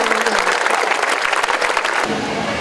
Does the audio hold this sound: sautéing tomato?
no